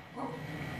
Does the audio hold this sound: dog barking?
yes